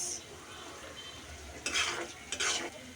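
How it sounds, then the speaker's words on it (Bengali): Frozen shrimp frying with cumin, red chili and coriander powders in a pan, a steady low sizzle broken by two louder bursts of stirring and scraping, with no talk. "সব কিছু কিছুক্ষণ ভেজে নেব ভালো করে"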